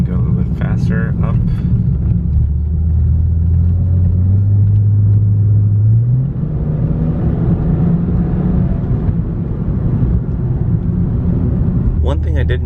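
Exhaust of a BMW 328i fitted with a Magnaflow muffler, heard from inside the cabin: a loud low rumble that rises in pitch as the engine accelerates, then settles into a steady drone, with brief voices near the start and end.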